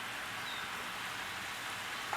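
Taco meat sizzles in a hot pan, a constant crackling hiss at moderate volume with no breaks.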